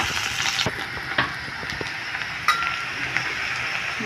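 Finely chopped onions fry in oil until lightly reddened, a soft, steady sizzle with occasional sharper pops and utensil taps, no voices.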